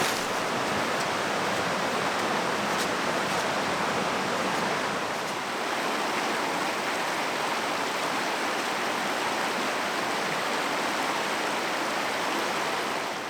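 A river with a doubled volume of water rushes beside a hiking trail, producing a loud, continuous broadband roar that stays steady throughout.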